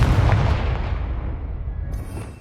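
Confringo explosive spell blasting in Hogwarts Legacy: a heavy, booming explosion with a deep thud up front that rolls off into a fading rumble, ending with a faint high ring.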